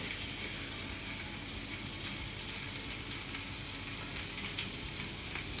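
Beef tenderloin searing in a pan preheated for about ten minutes, giving a steady, loud, dense sizzle that holds evenly throughout with no talk.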